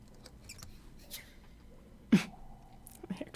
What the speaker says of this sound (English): the Alva let out a loud sneeze